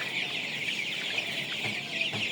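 A large brood of about a thousand Sonali chicks peeps constantly in a high, dense chorus, with a few low bumps underneath.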